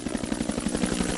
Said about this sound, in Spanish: Un alto en la batalla permite por fin el aterrizaje de un helicóptero.